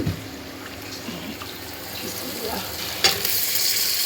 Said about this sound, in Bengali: আমার মশলা কষানো হয়ে গেছে এবার মাংস দিয়ে দেবো